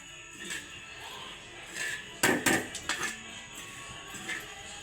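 Soaked rice being dry-roasted in a pan for rice laddoos gives scattered scrapes and light clinks of a utensil against metal, with a brief louder burst of scraping midway, close and fairly quiet.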